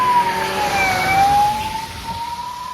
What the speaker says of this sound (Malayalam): പിന്നെ ആംബുലൻസ് വരുന്നേ